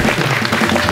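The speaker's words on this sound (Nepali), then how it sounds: "एकताल जोरदार ताली तिनै जानको लागि।" Audience applause at a comedy club show, a dense burst of many hands clapping together, close and steady for a moment.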